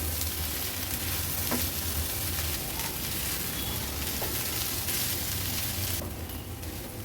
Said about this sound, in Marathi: थोडा थोडा करून भात ह्याच्यात ॲड करायचा आहे आणि मिक्स करून घ्यायचा आहे